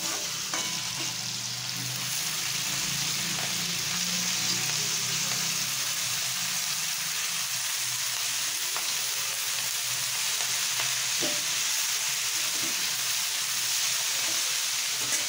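Fenugreek leaves fry and are stirred in a pan for a Maharashtrian methi bhaji with toor dal, giving a steady close sizzle with faint scraping, and no one talks.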